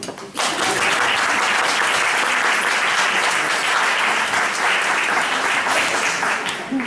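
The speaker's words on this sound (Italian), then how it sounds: "Applauso." Audience applause at a book presentation in a room, steady clapping from a seated crowd that begins abruptly and continues evenly for several seconds.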